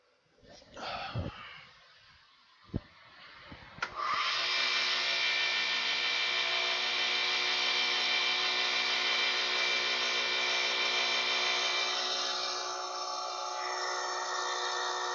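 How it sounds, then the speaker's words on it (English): Wood lathe spinning up and turning a walnut pen blank: a few faint knocks, then a loud, steady whirring hum with tonal whine that holds for over ten seconds, easing slightly near the end. "I'm going to turn the lathe up again, because I need it a little heat this time."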